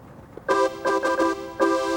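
Short bright Casio keyboard chords, layering jazz organ and brass ensemble tones, sound in several separate stabs with brief gaps, clear and close, with no talking.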